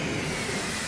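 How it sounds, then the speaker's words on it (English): A ship's engine shutting down in the video game Lost Odyssey, heard as a loud, dense hissing roar that stays steady and fills the whole moment, close and overpowering, with no voices. "I love how the engine shutting down is just this incredibly loud noise"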